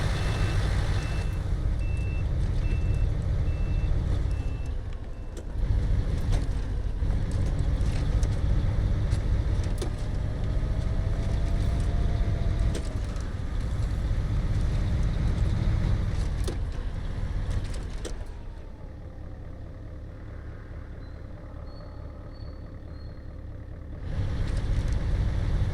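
Engine of a Mercedes-Benz Unimog mod truck in the SnowRunner video game, a steady low rumble that rises and falls with the throttle, briefly easing off and settling quieter before picking back up, with an intermittent beeping tone.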